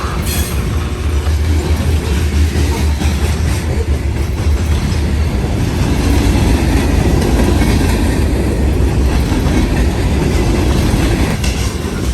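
A freight train rolls past with a mid-train NSAC 44C6M locomotive, burned on one side, its engine sounding odd. A loud, steady roar of wheels and cars with rhythmic clickety-clack runs unbroken and close.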